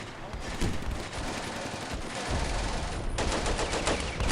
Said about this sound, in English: You can hear the mortars firing